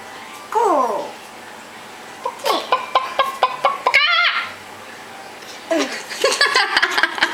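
A young child imitates a chicken with a string of squeaky clucks and crowing-like cries, broken up by short bursts, while an adult speaks briefly in the room.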